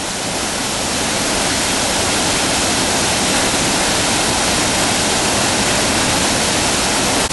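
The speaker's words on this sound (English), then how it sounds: "And on our way up, there's just waterfall after waterfall." Loud, steady roar of a waterfall on the Ingleton Waterfalls Trail in the Yorkshire Dales, a dense broadband rush of falling water heard close up and continuous throughout, with no voices.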